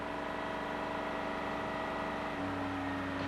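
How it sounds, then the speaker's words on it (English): A Freightliner truck's Detroit Diesel engine running with hot oil, its power being cut back by the oil-temperature sensor: a steady, loud droning idle with a constant low hum, the pitch settling slightly lower near the end. "Listen for the engine sound and watch these panels."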